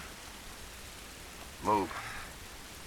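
Steady, even rain falls throughout a scene in the video game The Last of Us, with a short spoken word cutting in briefly midway.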